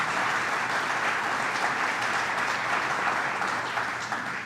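Steady applause from an audience at a governor's broadband announcement, dense and continuous clapping held for several seconds at an even level before tapering slightly at the end.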